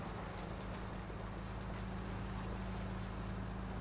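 A tractor in Farming Simulator 19 driving and turning in a field, a steady low engine drone with a constant hum that stays even and continuous.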